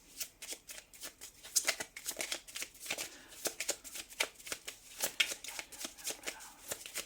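Tarot cards shuffled by hand in a steady, rapid riffle of soft papery slaps, close but quiet, continuing without a break.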